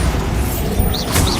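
A Bombarda spell explosion in Hogwarts Legacy, a loud booming blast with crashing and mechanical debris textures, with a shimmering magical whoosh layered over it.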